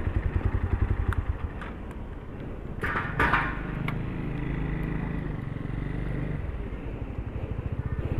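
A Motorstar Cafe 150 motorcycle idles close by, a steady low engine throb with brief clatter, running alone without talk.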